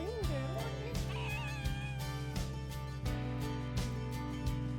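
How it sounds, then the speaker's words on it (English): A cat meows and cries insistently while following travellers in Türkiye, several wavering close-up meows over a steady low hum, with soft rhythmic thumps throughout. "So this cat has followed us all the way, until about 3/4 of the way from there. Just keeps following us, crying."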